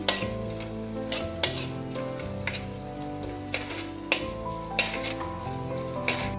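Chopped tomato frying with onions in a pan while a spoon stirs in rhythmic scrapes over a continuous close sizzle, no voices.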